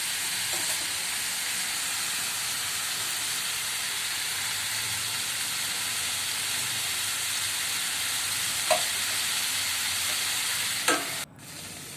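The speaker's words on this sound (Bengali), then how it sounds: "আবার একটু নেড়ে আবার ভাজতে হবে।" Mixed vegetables for a Bengali niramish pachan frying in a pan, giving a steady, even sizzle and hiss throughout, with a couple of faint clinks from stirring near the end.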